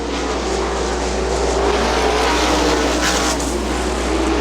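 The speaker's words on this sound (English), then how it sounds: "700 horsepower of Outlaw Wing Sprint car action now." Outlaw winged sprint cars rated at 700 horsepower roar steadily around a speedway, a dense, unbroken engine drone that stays loud and even with no break.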